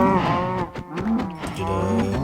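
Cows on a farm in Minecraft give several drawn-out, tonal moos in quick succession, close and clear with no speech over them.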